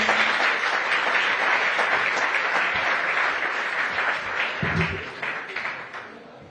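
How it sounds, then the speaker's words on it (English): Audience at a COP 28 climate conference session applauding, a dense, loud, sustained round of clapping that slowly thins out toward the end, with faint voices underneath. "Give them a round of applause, please."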